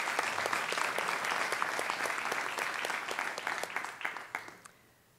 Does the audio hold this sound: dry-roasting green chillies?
no